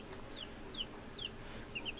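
Backyard chickens, including Polish, Silkie, Americana and Rhode Island Red hens, give a few soft clucks spaced across a quiet background, faint and somewhat distant.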